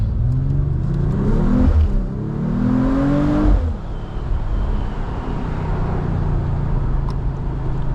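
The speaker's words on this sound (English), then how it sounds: "this has a real nice inline six exhaust sound to it" A 2025 Mercedes-AMG CLE 53 Cabriolet's inline-six exhaust growls from inside the moving car, rising twice as the engine revs up under acceleration, then settling into a steady cruising hum with road noise.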